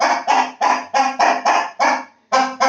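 A large bird, apparently a goose, honks loudly indoors in a steady series of about nine harsh, evenly spaced calls, close and echoing, with a short gap before the last two.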